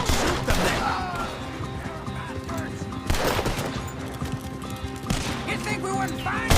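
Close, rapid gunfire bursts crack through a Red Dead Redemption 2 shootout, volleys repeating over a dense game soundtrack while voices shout in the fray.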